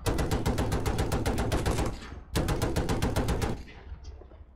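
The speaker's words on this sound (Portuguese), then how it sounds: "Olha os tiros lá passando" Rapid bursts of automatic gunfire in the video game Battlefield 2042, two long rattling volleys separated by a brief pause, loud and close, ending in a fading echo.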